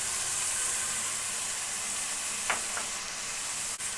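Masala and chicken fry in a pan with a soft, continuous sizzle, broken by a couple of brief clinks or scrapes near the end and no talking.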